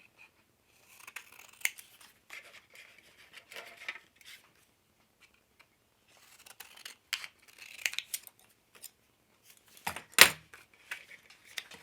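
Scissors snip and trim paper for a tin journal in quiet bursts of short crisp cuts, followed by a pause and then more snipping, ending in one sharper, louder snip.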